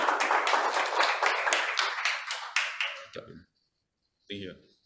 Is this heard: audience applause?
yes